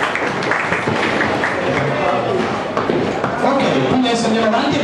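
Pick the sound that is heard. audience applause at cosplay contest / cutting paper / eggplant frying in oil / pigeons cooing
audience applause at cosplay contest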